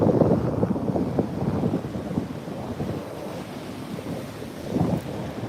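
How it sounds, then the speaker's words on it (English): Waves breaking out on a sandbar at a beach with a building swell, heard as a steady broadband surf roar with surges near the start and around five seconds, mixed with wind buffeting. "The waves are actually breaking out the front of the bar now."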